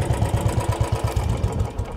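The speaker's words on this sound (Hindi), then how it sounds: "दस किलो की क्रैंक की साउंड इसमें" A Royal Enfield Bullet 350 engine fitted with a heavy ten-kilogram crank idles close by, thumping in a steady, deep, evenly spaced beat with a mechanical clatter on top.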